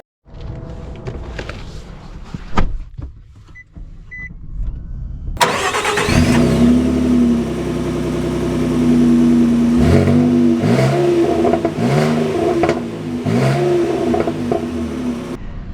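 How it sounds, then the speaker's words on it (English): A 2024 Nissan Frontier mid-size pickup truck starts up and drives off, with a quiet interior hum giving way to a loud, close engine that revs and climbs through several gear shifts. "Let us set off in the last real mid-size pickup truck."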